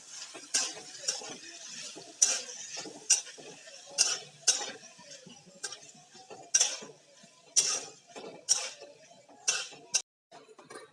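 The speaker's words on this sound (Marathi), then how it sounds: "बटाटे असे छान असे परतून घ्यायचे आहे" Potatoes being sautéed with chillies in a pan for sabudana khichdi: a series of sharp metallic scrapes and clinks from a spoon against the pan, repeated at irregular intervals, close and fairly clear, with no talking.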